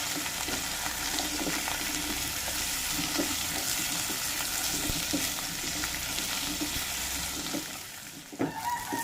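Vegetables with carrot sizzle and crackle steadily in a hot pan as a chicken curry is built, with stirring scrapes throughout and a brief clatter near the end.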